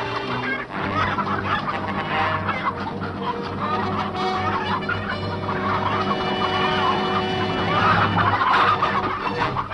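Chickens clucking near a farm barn, a busy continuous flock chatter with layered squawks and clucks at close to moderate distance, steady and fairly loud over a low rumbling background throughout.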